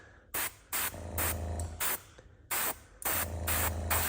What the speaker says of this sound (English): Letting some of that overspray kind of get over and give it a nice effect.